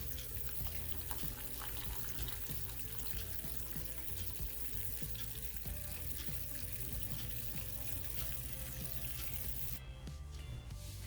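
Steady bubbling and sizzling of sugar syrup boiling in a pan for barfi, continuous and close, with faint clinks near the end.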